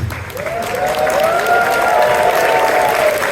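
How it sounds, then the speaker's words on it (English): Audience at the ConFuzzled 2023 closing ceremony applauding, a loud sustained wash of clapping with cheers and whoops rising over it. "Round of applause for them."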